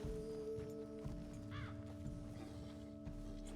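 Horse hooves clip-clop in Red Dead Redemption 2 as riders follow along. A steady, moderate stream of hoofbeats sits under constant game ambience, with a brief whinny-like sound partway through.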